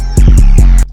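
An 808 bass pattern programmed in FL Studio, with a note dropped five semitones below the root at the end of the bar: several deep, booming bass hits in quick succession under crisp high ticks, loud and alone, with no talk.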